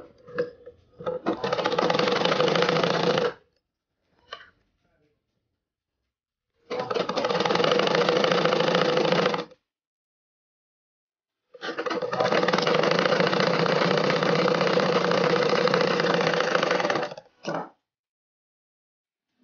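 A sewing machine stitches frock fabric in three separate bursts of steady, fast running, each lasting a few seconds, with quiet pauses between them.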